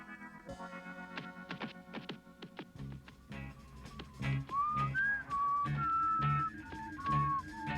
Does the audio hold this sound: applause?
no